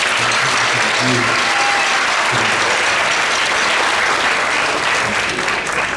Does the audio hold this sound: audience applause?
yes